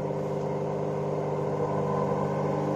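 A DC motor spins a car alternator with a steady, quiet mechanical whir and a low tonal hum that holds fairly constant throughout.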